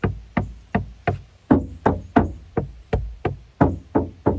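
A dozen hollow knocks on the thin metal back door panel of a 2025 Toyota Corolla, evenly spaced and close up, each with a short tinny ring.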